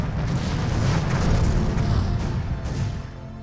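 A spaceship blows up during a Star Trek starship battle game, a sustained loud rumbling blast that rolls on for several seconds before slowly easing off, with no talk over it.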